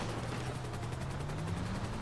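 Steady automatic gunfire aimed at a helicopter in GTA V, a continuous rattling barrage with a low droning hum underneath, held at an even, moderate level with no talk over it.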